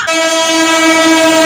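A train horn blows as one long, loud, steady blast that holds through the whole moment, with a brief clatter at the very start and no talk over it.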